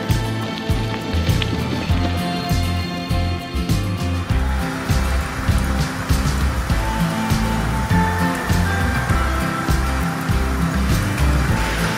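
A passing rain shower in Auburn along the Mawson Trail, loud and steady patter close by, pouring continuously over a sheltered public toilet block with a rhythmic lower rumble throughout.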